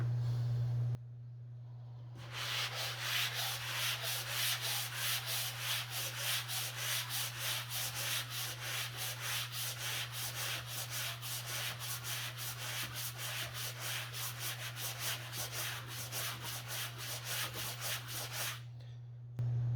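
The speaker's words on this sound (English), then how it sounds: "so I'm going to go ahead and sand" Rapid rhythmic scraping of a sanding block rubbed back and forth on a drywall patch around an outlet, steady strokes for many seconds over a constant low hum.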